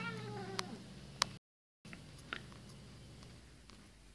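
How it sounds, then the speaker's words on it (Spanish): Cats fighting indoors, with faint, distant meows and yowls, a few sharp thumps and clicks, a brief dropout in the middle, and a low hum underneath throughout. "Ay, mis gatos están peleando."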